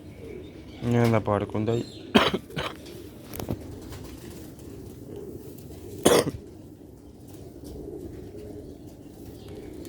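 Pigeons on a rooftop loft cooing, low soft coos near the start, with someone talking and a few sharp knocks or coughs breaking in over a steady background hum.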